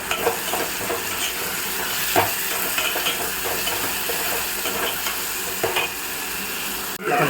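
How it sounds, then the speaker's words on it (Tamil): Onion and tomato with salt sauté in a pan for kara kuzhambu, a steady sizzle broken by repeated scraping strokes of a spoon against the pan, ending with a sharp clatter. "வெங்காய தக்காளியெல்லாம் நல்லா வதங்கிருச்சு."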